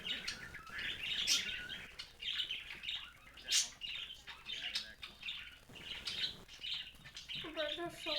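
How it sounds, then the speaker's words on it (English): Many birds chirp and tweet loudly outdoors in a dense, continuous chorus of overlapping calls, with faint talk now and then underneath. "The birds are so loud."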